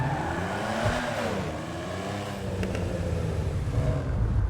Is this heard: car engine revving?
yes